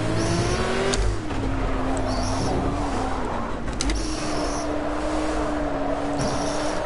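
Ford Mk IV race car engine in Project CARS drones loudly and continuously, pitch dipping briefly then holding a steady high-revving note with faint tire and mechanical noise over it.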